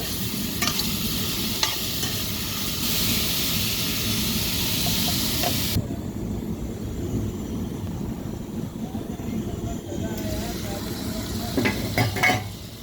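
Tomatoes sautéing in a pan for a ridge gourd dish, a close hissing sizzle with stirring scrapes that drops away midway, then light clatter and stirring sounds return near the end.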